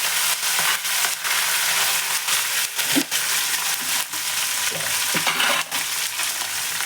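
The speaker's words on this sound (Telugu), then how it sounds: "జీలకర్ర, ఆవాలండి, ఇవన్నీ వేసుకుని వేపుకొని" Cumin and mustard seeds crackle and sizzle in hot oil while a spoon stirs them, with sharp popping bursts scattered over a dense, steady frying hiss, close and without any talk.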